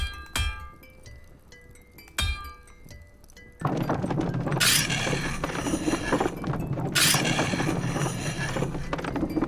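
Sharpening an item at the forge in the video game Kynseed: a few sharp metallic strikes with ringing tones early on, then a steady continuous grinding rasp with two brighter bursts, near and alone without talk.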